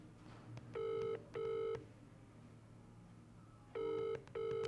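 A telephone rings out in two double-burst rings, each pair of electronic trills sounding loud and close, with a pause between the sets and a low background hum underneath.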